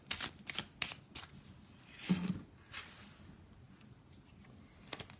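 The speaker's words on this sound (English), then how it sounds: "so let's shuffle Lenormand" Lenormand cards being shuffled during a reading, a series of quick, soft riffling bursts close by with short pauses between them, quiet overall.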